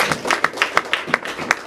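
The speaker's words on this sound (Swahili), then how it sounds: "Nasema pigia Yesu makofi mazuri." A church congregation claps in praise at a service, producing a quick, fairly loud series of rhythmic claps over a couple of seconds, with no talking over it.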